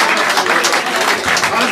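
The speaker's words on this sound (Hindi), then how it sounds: "आप सबकी तालियां बता रही हैं कि आपने कितना लुत्फ़ उठाया।" An audience at an Urdu poetry recital applauds, dense continuous clapping that stays loud and even throughout, with no voices on top.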